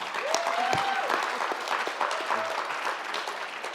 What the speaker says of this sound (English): You get a lot of applause for that.